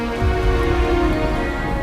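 Heavy rain falls in a Pakistani TV drama scene, a loud, unbroken wash of dense patter and hiss with no speech.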